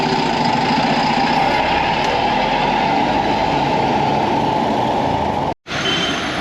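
The engine of a sleeper bus idles near Sion Hospital before departing, a steady, loud low drone that continues unchanged before a momentary dropout near the end.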